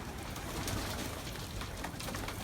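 Pigeons coo softly and repeatedly around a racing loft as the birds come down, the low burbling calls sitting in a steady wash of outdoor background noise, with no talk.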